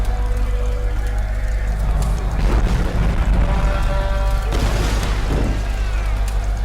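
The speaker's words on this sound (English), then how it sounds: "If these explosions want to calm it down for a minute, it would be really appreciated." Building explosions in the Tomb Raider game, deep continuous rumbling booms with heavier crashing bursts rising midway and near the end, loud and close, with no talk.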